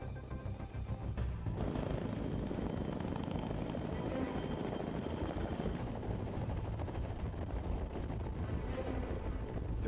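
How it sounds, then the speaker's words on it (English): Several helicopters land on a concrete pier pad on a presidential mission, producing a steady, somewhat distant rotor and engine roar with rumbling low end and wind buffeting, mostly continuous for the whole span. "For this presidential mission, not one, but 4 helicopters must squeeze onto the pad."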